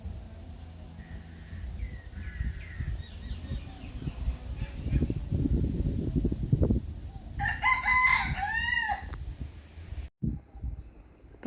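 A rooster crows once, loud and close, after a stretch of rustling and wing flapping, with a faint bird call earlier in the quiet background of a rainy orchard farm in Chanthaburi, Thailand.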